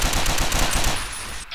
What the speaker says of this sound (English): I don't know if I was supposed to start shooting there, but I am.